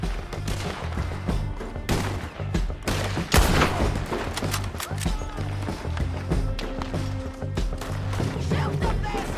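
Gunfire in the Red Dead Redemption 2 video game crackles in a rapid, dense volley of shots, mixed with frantic action noise and a raised voice shouting over the din.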